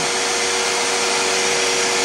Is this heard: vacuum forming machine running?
yes